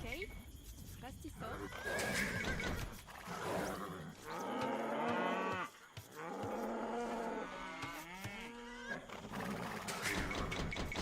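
Cattle lowing in a video game, several drawn-out moos with neighing-like calls in sequence, heard over ongoing game sound and player talk.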